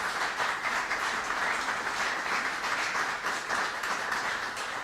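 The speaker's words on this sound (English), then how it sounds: "They deserve a round of applause for their leadership." Steady, dense applause from a large audience at a county executive's announcement, continuous and even throughout with no voices standing out.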